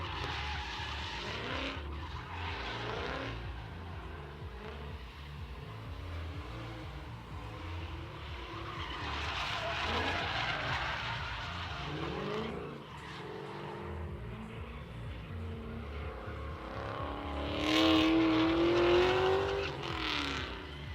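A drift car slides around a drift pit at a Sunday test-and-tune event, with engine revs and tire noise rising and falling at a moderate distance and a louder pass near the end.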